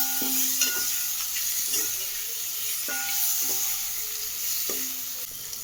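Steady sizzling of tomato and vegetables sautéing in a hot pan with occasional stirring scrapes, close and continuous, no voices.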